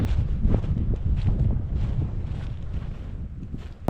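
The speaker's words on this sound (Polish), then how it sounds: "Za zimno tu jest, za mocny wiatr." Strong, cold winter wind on a mountain summit buffets the microphone in a steady, heavy roar with low rumbling gusts throughout; no voices.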